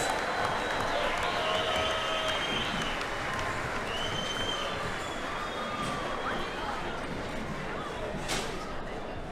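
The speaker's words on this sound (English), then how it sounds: "Come on, give them a round of applause" A crowd at the 2023 Open Shearing Final claps and cheers for the shearers, a dense, continuous roar of applause and crowd noise with some voices mixed in.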